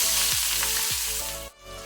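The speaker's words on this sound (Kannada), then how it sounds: "ಸಾಸಿವೆ ಚಟಪಟ ಆದ ನಂತರ 1 ಆನಿಯನ್ ಈರುಳ್ಳಿ ಹಾಕ್ಕೊಳ್ತೇನೆ." Onion tossed into hot oil after mustard seeds have spluttered, giving a loud, even hissing sizzle up close that briefly drops away near the end.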